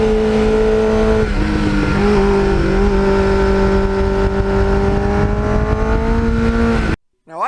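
A 1989 Kawasaki GPX750R motorcycle engine idles loud and close with a steady harmonic drone, rising briefly in a revving blip before settling, then cutting off abruptly near the end.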